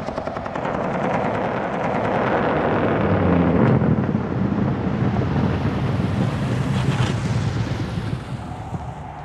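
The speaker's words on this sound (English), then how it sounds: "Here's an example of these techniques during a simulated blowout that we do as part of our testing process." A car tire suffering a simulated blowout during GM tire safety testing, heard as a loud continuous roar of wind and road noise with rumbling turbulence throughout, no voices.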